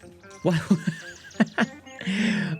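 Horse in the video game Kingdom: Two Crowns gives a loud, close, shaky whinny, with a couple of short snorts and a breathy tail.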